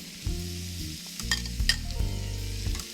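About two pounds of peeled, deveined shrimp sauteing in a pan for shrimp Creole, with a close, steady sizzle, a low hum from the stove and several sharp scrapes and clicks of a utensil stirring.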